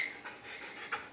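A one-year-old puppy pants softly and quickly at close range, a faint, brief burst of breathy huffs with no other sound.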